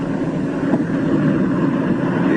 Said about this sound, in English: His one remaining engine is losing power.